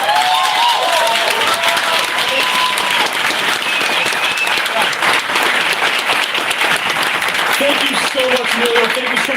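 Loud audience applause at a town hall meeting in Milwaukee, thick sustained clapping mixed with crowd noise and scattered voices and cheers throughout.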